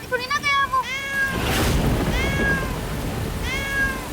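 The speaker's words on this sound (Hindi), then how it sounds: "वो सुनो, बिल्ली की आवाज।" A cat meows several times in clear, drawn-out calls, one near the start and others spaced across the few seconds, heard over a noisy, rumbling background.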